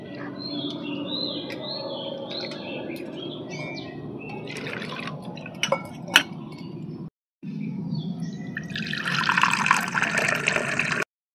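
Sago pearls are washed in water by hand, with close splashing, swishing and light clinks, a brief gap of silence, then a louder burst of agitated water near the end.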